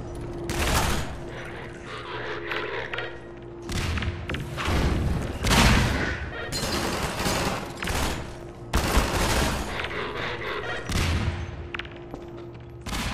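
Grenade explosions burst repeatedly in the Half-Life 2 shooter game, loud booms and thuds following one another in close succession amid a continuous din of combat noise.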